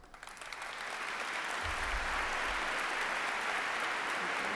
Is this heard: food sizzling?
no